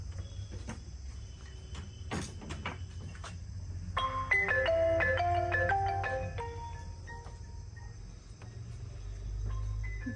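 A mobile phone ringtone plays a short melodic run of beeping tones indoors, starting after a few scattered knocks and fading back into a low steady hum.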